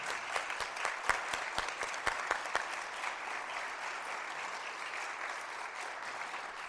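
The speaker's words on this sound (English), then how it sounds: "Let's give a round of applause for our Young Adult Service Award recipient" Applause from an annual meeting audience honoring a Young Adult Service Award recipient, starting with a few sharp, distinct claps that quickly swell into steady, dense clapping from a medium-sized crowd in an indoor hall.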